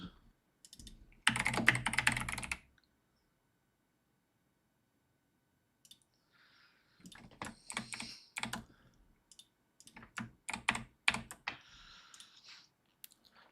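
Computer keyboard typing comes in short clattering bursts, one dense run near the start then, after a long silent gap, several quick flurries of close, crisp key clicks.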